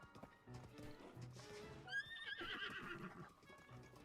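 A horse whinnies loudly in Zelda: Tears of the Kingdom, its neigh rising near the middle of the clip, with hooves clip-clopping and game sounds around it.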